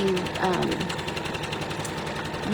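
A sewing machine stitches a fluffy cuddle fabric layered on more fluffy fabric, a fast, even mechanical patter running continuously at close range.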